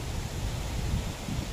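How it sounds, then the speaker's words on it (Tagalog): Strong wind buffets the microphone outdoors near coconut palms, a rough continuous roar with low gusty rumbles and rustling, loud and unbroken. "Ang lakas ng hangin."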